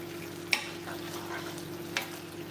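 A pot of seafood and pig tail stew being stirred over low heat, faint scraping with a couple of soft clinks against a quiet steady hum.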